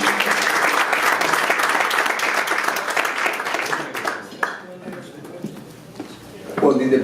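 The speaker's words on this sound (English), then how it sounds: "We give again an applause" An audience at a keynote speech meeting gives a loud, sustained round of applause that tapers off, followed by someone speaking over the quiet room.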